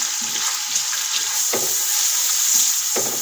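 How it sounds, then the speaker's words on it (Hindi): Onions frying in hot oil as they brown for chicken korma, a loud, steady crackling sizzle with a few stirring scrapes, close up and without voices. "अब इनको मैं ब्राउन करूँगी।"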